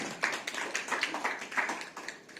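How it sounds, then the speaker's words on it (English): A conference audience gives a short round of applause for a session moderator. The clapping is light, scattered and fairly quiet, heard from a distance. "can we have a round of applause,"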